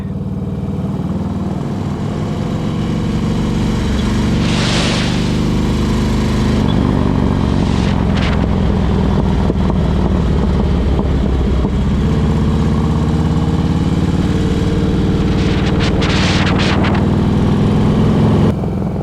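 A Harley Davidson motorcycle ridden along a road, its engine rumbling loudly and steadily with shifting revs, over constant wind noise and an occasional thump from bumps.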